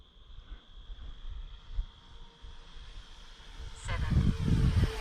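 An RC model boat with twin Tiger F90 1950kv electric motors runs at half throttle, giving a faint, steady high whine that carries throughout, with low rumbling water and wind noise growing louder toward the end.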